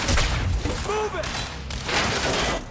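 Suppressive gunfire in Quantum Break, a loud volley of overlapping shots in rapid bursts with a brief shouted voice in the middle.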